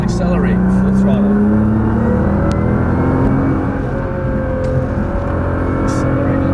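A Nissan GT-R accelerates at full throttle on the racetrack at Las Vegas Motor Speedway, its engine droning loudly and rising in pitch from inside the car, with an instructor talking over it.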